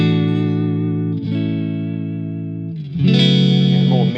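Fender Custom Shop Stratocaster electric guitar played through a modern effects rig, sustained chords with a chorused, slightly driven tone ringing out loud and close, changing to a brighter chord near the end.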